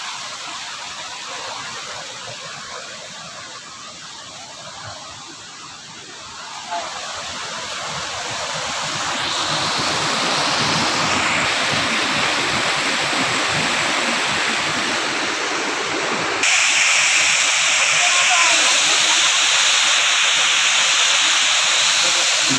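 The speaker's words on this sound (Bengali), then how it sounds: "আলটিমেটলি পৌঁছে গেলাম বামনি ফলসে।" Bamni Falls in the Ayodhya hills of Purulia roars as a steady, loud broadband rush of falling water that swells and grows brighter as it draws nearer, continuous throughout with no pauses.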